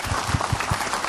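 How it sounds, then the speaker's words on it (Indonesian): A short burst of audience applause from the congregation at a televised Islamic sermon, with fairly even, moderate clapping and no talking. "Tepuk tangan Pak Ustadz Maulana"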